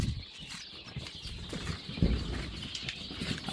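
Soft flurries of small quail chick wings flapping close by, with faint rustling and a few light bumps over a low background hum.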